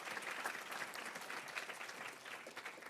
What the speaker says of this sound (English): So I think we should give you a round of applause.